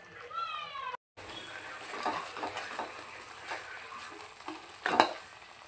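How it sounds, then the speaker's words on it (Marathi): Homemade masala for a village-style crab curry is stirred and fried in a pan, giving a soft continuous sizzle with spoon scrapes and brief clatters, heard up close and moderately quiet. "छानपैकी आपल्याला मसाला आता हा परतून घ्यायचा आहे."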